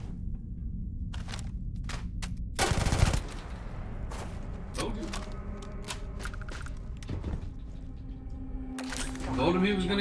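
Bursts of gunfire in the Starfield video game, a heavy volley of shots near the start followed by scattered sharper reports, all over continuous game background noise and a speaking voice.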